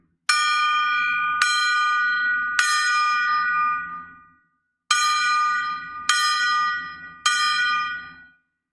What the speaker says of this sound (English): So I strike the gong and you see?